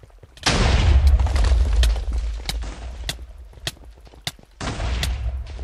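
Gunfire and explosions from the video game Fractal Descent: a loud booming blast followed by a rumbling barrage of shots and sharp pops, then another heavy burst near the end.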